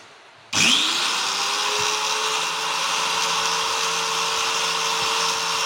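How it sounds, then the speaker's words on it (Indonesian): A Modern SIM-2300 angle grinder switches on sharply about half a second in, spins up and then holds a steady, loud, high motor whine with no talking. "Kita nyalakan."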